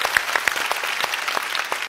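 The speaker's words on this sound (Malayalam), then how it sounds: "അതിന് നല്ല കയ്യടി വേണം." Audience applause at a live stage comedy show, a dense steady patter of many hands clapping together, loud and close, continuing without talk before cutting off abruptly at the end.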